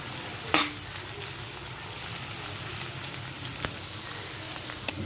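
Onions sizzling in hot oil with cloves, cardamom and cinnamon in a pan, a dense steady crackle close up, with a sharp clatter near the start and occasional stirring clicks, no talk.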